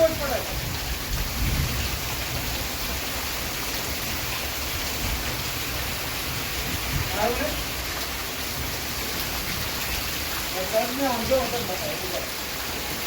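Dense, steady downpour of heavy rain in Alleppey with low rumbling thunder beneath it, continuous and enveloping, with a faint voice now and then.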